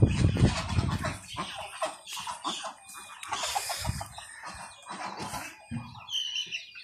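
Local chickens clucking in a large poultry shed that also houses turkeys, ducks and quail, a chorus of overlapping clucks and calls at close to middle distance.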